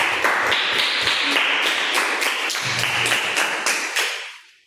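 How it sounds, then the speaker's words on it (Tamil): Students in a classroom give a hearty round of applause. The clapping is steady and fairly close, holds evenly for several seconds, then fades out. "முயற்சி செய்த மாணவர்களுக்கு ஒரு பலத்த கைத்தட்டல் கொடுங்க."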